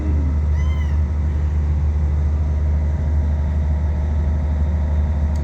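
Small rescued kittens meow in a few brief, rising cries early on, set against a loud, steady low hum like an idling engine that runs the whole time.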